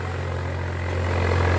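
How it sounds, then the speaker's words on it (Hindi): A Swaraj 744 FE tractor fitted with a 14-disc harrow runs with a deep, steady diesel rumble, loud and close, swelling slightly as the revs climb, with no talk over it. "ट्रैक्टर की आवाज हम सुने तो बहुत जबरदस्त आवाज है"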